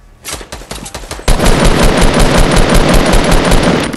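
Loud automatic gunfire in Fortnite Battle Royale, a few scattered shots and then a dense continuous burst of rapid fire that fills the moment, with no voices.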